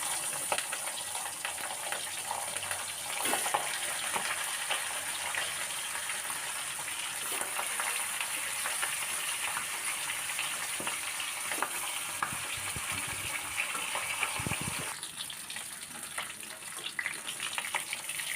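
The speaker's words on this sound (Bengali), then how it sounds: "এবার আমি মাছের মাথাগুলি ভেজে নেব।" Rohu fish heads fry in hot oil in a wok, giving a steady, close sizzle with crackling bursts throughout, alone with no voices.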